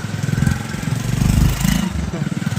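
A line of tractors idling in a queue at a diesel petrol pump, their engines chugging loudly and steadily up close with a rough throbbing pulse, voices faintly mixed in.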